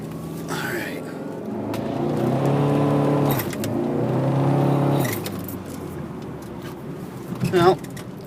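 A boosted Saab 9000 sleeper engine pulls hard under turbo boost on a road with traffic, a steady rising engine drone building for several seconds, then easing off, with someone talking over it.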